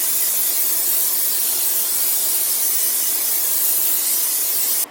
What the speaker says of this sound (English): I have my cast iron right here. I'm going to go ahead and spray it with extra virgin olive oil.